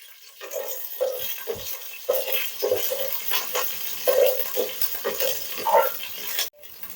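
Ginger and green chillies, with curry leaves, stirred in a pan for a rice upma, giving a steady run of close scraping and clinking strokes against the metal over a faint background hiss, with no talking.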